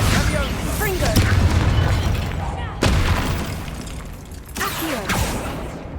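Blasting spells go off in the Hogwarts Legacy video game, three sharp booming explosions spaced a couple of seconds apart over steady combat rumble, with a voice briefly speaking between them.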